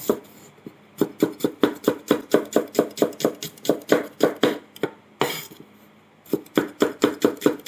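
A knife slices ingredients on a cutting board for Thai pork-filled sago dumplings, giving steady rapid chopping strokes in a regular rhythm, close and clear, with one brief pause partway through.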